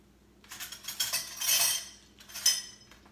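American goulash being dished up with a metal spoon, a few close clinks and scrapes against a pot and dish over about two seconds, then a final clink, no talk.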